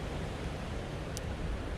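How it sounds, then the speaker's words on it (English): Steady broadband wind and rolling surf at Miami Beach, heard from a balcony overlooking the shore, a constant soft roar with no voices. "What you can hear is the wind"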